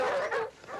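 Dogs give a short, yelping bark close by, a quick pair of whiny cries.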